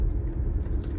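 A car drives over a potholed road, with a steady low rumble and clattering bumps from the trunk full of groceries rattling throughout, loud and close, with no talk.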